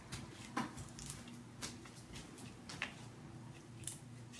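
Paper or leaves torn by hand into small bits while preparing a summer drink, a steady run of quiet, close ripping and crackling bursts repeating every second or so.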